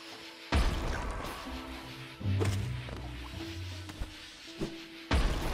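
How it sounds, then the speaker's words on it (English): Explosions in the video game Hollow Knight: a string of sharp, crashing bursts and thuds at moderate level, with a few louder hits near the start, middle and end over a dim game background. "I think the first explosion caused a second explosion, which got him."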